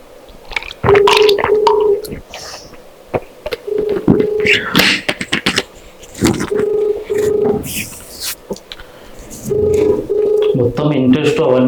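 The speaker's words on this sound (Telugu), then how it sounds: "అన్న ఫోన్ చేస్తాను" A phone call being placed: steady, repeating ringback-like tones come in bursts, with people talking over and between them.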